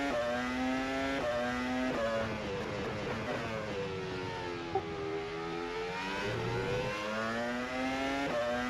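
Formula 1 car in a sim racing game at the Baku street circuit, its engine rising in pitch through first gear, dropping back and climbing again in repeated steady, fairly loud sweeps with no talk over it.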